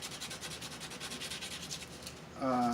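Sanding the solder terminal on a Pioneer TX-905 tuner by hand, a quick series of soft, rhythmic rubbing strokes up close, ending in a brief tonal ring.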